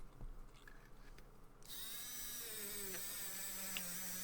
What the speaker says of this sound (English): here we'll take the wire wheel attachment on the Dremel and get it all out